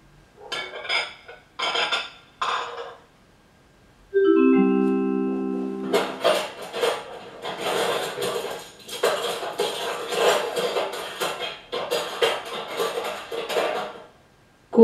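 Metal cutlery clinks and rattles against dishes in a home kitchen, with several short bursts of jangling followed by a sustained stretch of busy clattering, close and fairly loud.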